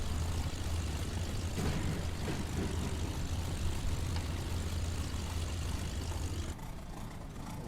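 A Saab B17 aircraft engine in Microsoft Flight Simulator, a steady low droning hum with constant broadband roar that drops in level near the end.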